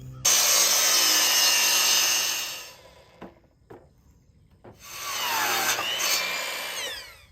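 A chop saw grinds through a wooden post, cutting a point into it. It gives a loud, close, sustained whine, stops briefly with a few knocks and clatters, then whines through a second cut.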